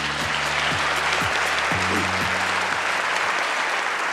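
Enthusiastic applause from a large audience at a Korean government policy presentation, dense continuous clapping at steady volume while low tonal music plays underneath.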